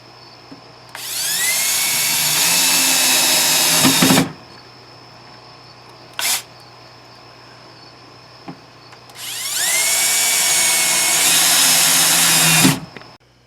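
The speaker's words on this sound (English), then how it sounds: "I'm just going to use some 1/2-inch OSB and screw it in with some drywall screws to hold it" A power drill drives drywall screws into half-inch OSB while building an off-grid ice box: two long, loud, close whirring runs that rise in pitch, with a brief burst between them.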